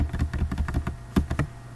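Quick typing on a computer keyboard while entering an IP configuration, including a press of the tab key: a burst of close, crisp key clicks in an uneven rhythm, with a brief pause and then a few sharper strokes.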